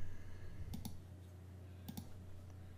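A computer mouse clicks during Photoshop editing: two quick double clicks, one near the start and one later, each faint and close, over a steady low hum of room or computer noise.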